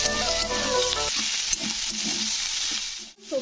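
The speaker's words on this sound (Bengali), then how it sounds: "তো লবণটা দিয়ে আবার একটু নাড়াচাড়া করে দিতে হবে।" Chopped vegetables sizzle and fry in a pan as salt is stirred in, with scraping spatula strokes over a steady hiss and a brief clink near the end, no talking.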